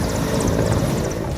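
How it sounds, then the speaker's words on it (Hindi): An army helicopter sits at a flood-relief loading site in Bhind, Madhya Pradesh, its rotor and engine giving off a loud, continuous, close-up roar for a brief moment. "सेना के हेलीकॉप्टर में राहत सामग्री रखी जा रही है"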